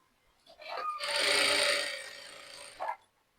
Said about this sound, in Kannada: ಇಲ್ಲೊಂದು ಸ್ಟಿಚ್ ಹಾಕ್ಕೊಳ್ತೀನಿ